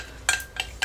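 Three short clinks of a utensil against a bowl while stirring a homemade liquid soap mixture, spaced apart, close by and fairly quiet.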